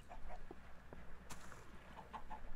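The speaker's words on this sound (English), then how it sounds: "And a chicken." Chickens clucking in modded Minecraft, a few soft, short clucks scattered over a couple of seconds with a low background hum and a faint click.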